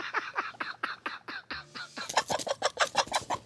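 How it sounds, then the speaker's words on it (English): Backyard chickens cluck in quick, rapid bursts close by, a busy run of sharp, repeated calls that grows denser and brighter partway through. "Some chickens. Come here, chickies."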